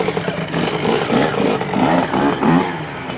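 Engine of a 2017 KX65 dirt bike running close by: a loud, raspy two-stroke-style drone that swells and dips slightly with the throttle, with no voices over it.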